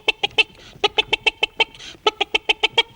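A cartoon rooster clucks rapidly while pecking at grains on the ground, with sharp, evenly spaced bursts in quick runs broken by short pauses, loud and close.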